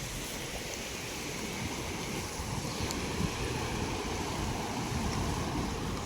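Rushing water flowing steadily around people standing in a flooded spot while cast-net fishing, a continuous broadband wash that stays even and fairly close throughout with no breaks.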